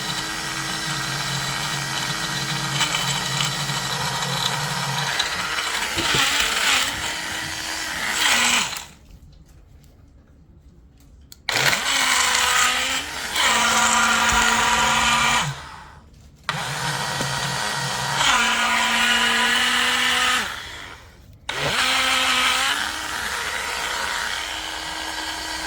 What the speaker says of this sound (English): Blend it, crush it first.